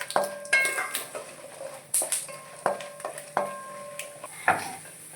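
Peanuts, mustard seeds and urad dal are tempered in a pan for lemon rice. A metal spoon strikes the pan in a string of close, ringing clanks, each tone lingering briefly over a light sizzle.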